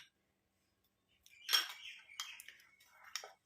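Rice flour, coffee and tomato juice face pack mixed in a bowl, a few brief clinks and scrapes of a spoon against the bowl after a quiet start, close but soft.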